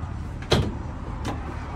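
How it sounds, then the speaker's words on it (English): Rear swing-out cargo doors on a 2020 Nissan NV200 compact cargo van being opened, two brief clunks about 0.7 seconds apart, the first louder, close by over a steady low background hum. "you have a sweet two swing out doors here."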